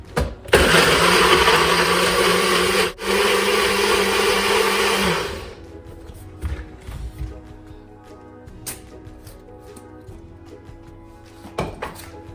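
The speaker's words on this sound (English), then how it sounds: "So next, just cover the blender." A blender making a smoothie runs loudly for about five seconds, briefly dipping once, then cuts off, followed by quiet clunks and small handling knocks.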